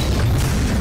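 A cartoon laser gun firing a single shot, heard as a short, loud, booming burst with heavy low-end weight rather than a thin zap, filling the whole brief moment with no talk over it.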